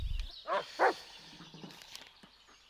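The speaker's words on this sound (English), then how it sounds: "What's he barking about?" A dog in the Blair Witch video game barks twice in quick succession, fairly close and loud, against a dark, quiet ambient backdrop with faint scattered ticks afterward.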